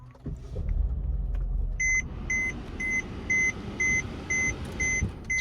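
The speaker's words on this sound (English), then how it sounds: "Start it up. Push button start to the right of the steering wheel." A 2014 Mercedes-Benz E350 starts by push button with a low engine rumble, then a steady run of evenly spaced, moderately loud warning beeps repeats over the idle.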